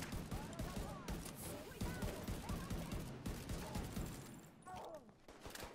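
Gunfire in The Division 2 video game, dense continuous shooting and battle noise at low level, with a player voice speaking briefly over it.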